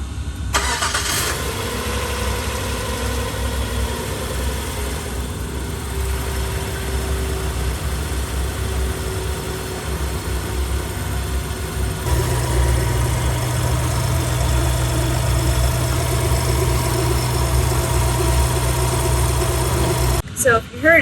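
Car engine cranks and catches, then idles steadily with a persistent metallic scraping running through it, the idle note dropping lower and heavier partway through, with brief talk near the start.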